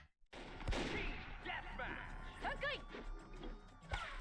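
Sniper rifle shots in the game Micro Volt Recharged: sharp reports with ringing game sound effects and chirping tones, heard under continuous talk.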